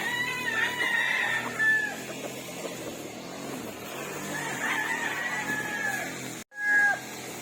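Roosters crow repeatedly amid clucking hens, close by on a farm, over a steady outdoor hum, with a brief loud thump near the end.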